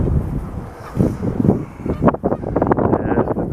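Strong gusty wind buffets the microphone beside a moored narrow boat on a very windy day, a loud rumbling roar with rushing surges and no talk.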